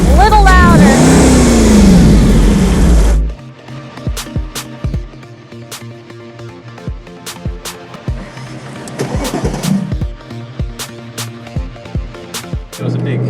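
Mercedes-Benz SLR McLaren supercar engine: a loud, sustained rev rising and falling for about three seconds, then quieter idle with short sharp blips and clicks while people talk nearby.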